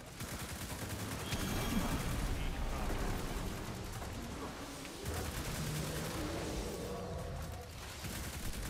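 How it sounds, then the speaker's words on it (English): Rapid bursts of gunfire at a shooting range with plate targets, dense overlapping shots with metallic clatter throughout, fairly loud and continuous, with faint voices underneath. "3, 2, 1, we're shooting now"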